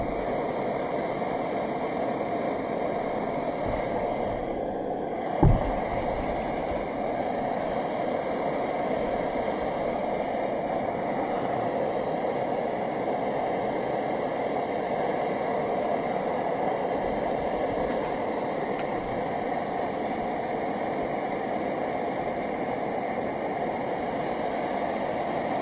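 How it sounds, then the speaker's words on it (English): A camp stove turned up to a full blast, roaring steadily like a small jet engine at an overnight campsite, a constant close hiss-roar broken only by one brief knock partway through. "can adjust the flame from just a teeny little simmer to a really rip-roaring loud blast stove jet engine"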